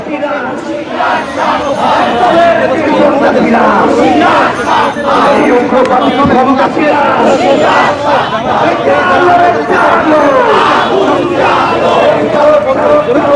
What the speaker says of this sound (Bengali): তারা স্লোগান দিতে দিতে কিন্তু এগিয়ে যাচ্ছে স্বরাষ্ট্র মন্ত্রণালয় অভিমুখে